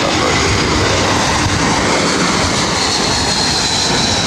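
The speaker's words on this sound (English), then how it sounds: "See JetBlue A321 coming in from Boston." JetBlue Airbus A321 jet arriving from Boston and landing at LAX, a loud continuous broadband engine roar that fills the whole stretch with steady intensity, no talk.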